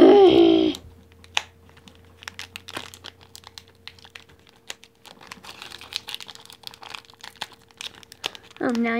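A Pokémon card promo pack wrapper crinkles and tears in scattered small bursts up close, quiet and irregular, with a person talking briefly at the start and end.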